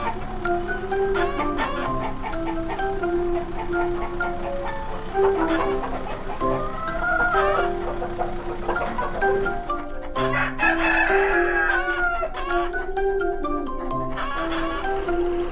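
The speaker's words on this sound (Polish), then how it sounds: "Skąd tyle kurczaków na podwórku?" A flock of chickens clucks steadily up close while roosters crow repeatedly through the scene, with no talking.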